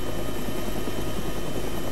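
A helicopter hovers in ArmA 3 with a medium utility helicopter flight model, producing a loud, close, unbroken rotor drone with steady low blade thumping and a high turbine whine.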